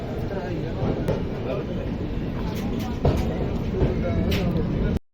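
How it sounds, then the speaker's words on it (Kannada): The Hassan–Solapur Express departs the station with a continuous low rumble and rattle of rolling carriages, close and steady, with occasional clanks and people talking over it. "ಟ್ರೈನ್ ಡಿಪಾರ್ಟ್ ಆತ"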